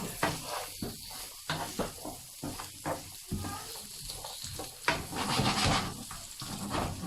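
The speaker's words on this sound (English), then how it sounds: "It's frying with olive oil" King prawns frying in olive oil, a dense close crackling sizzle with stirring scrapes that thickens and grows louder toward the end.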